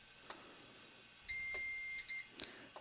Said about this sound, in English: You will hear a constant tone for 1 second, followed by a short beep